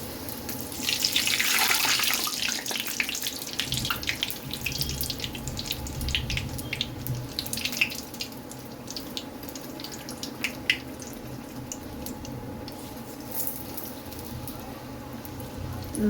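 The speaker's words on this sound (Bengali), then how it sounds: "তেলটা গরম হয়ে গেছে, এবার লুচিগুলো ভেজে নেবো।" Luchi, puffed flatbreads, deep-fry in hot oil with a dense bubbling hiss that is loudest early on, then settles into a gentler, steady crackle.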